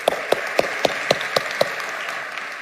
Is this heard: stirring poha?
no